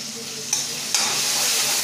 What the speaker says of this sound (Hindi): आधा टीस्पून हमने इसमें हींग डाला है